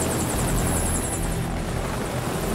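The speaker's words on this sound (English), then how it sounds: "got helicopters." Military helicopters roar in the Metal Gear Solid 4 video game, a loud, steady rotor and engine drone with fast chopping pulses running throughout and no voices.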